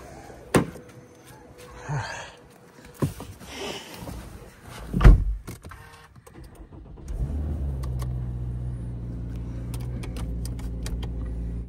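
Keys jingle and a car door thumps shut, then the engine cranks, catches and settles into a steady idle and drive, close and loud with no talking.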